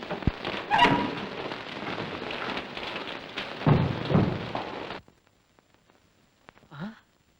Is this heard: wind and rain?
yes